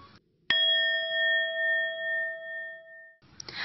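A Hindu temple bell is struck once, giving a bright ring that hangs and slowly fades over nearly three seconds, with short bits of other sound before and after.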